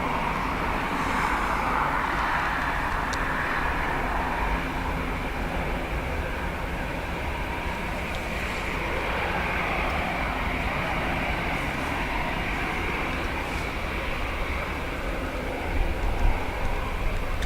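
A British Airways airliner taxiing at Dublin Airport on a windy, wet day, its steady jet engine roar holding broad and constant throughout, with gusting wind noise mixed in.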